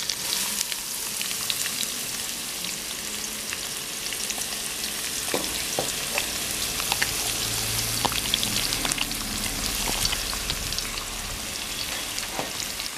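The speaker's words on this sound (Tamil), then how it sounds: "எண்ணெய் சூடாயிடுச்சு. அதில் நம்ம கட் பண்ணி வச்சுருக்கிற பெரிய வெங்காயத்தை போட்டுக்கலாம்." Large cut onion frying in hot oil for a South Indian mutton curry, a steady close hiss of sizzling with scattered crackles and pops throughout, no voices.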